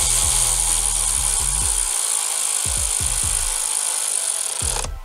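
A power tool snugging down the bolts on a car's electronic throttle body, with short bursts of whirring that wind up and spin down several times, loud and close, then a steady high whine that cuts off.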